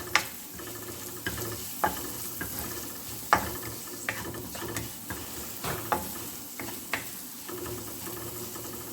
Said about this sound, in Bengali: এখন 1/4 টিস্পুন আমি দিব টারমারিক পাউডার, খুবই অল্প পরিমাণ, জাস্ট মিক্স করে নিয়ে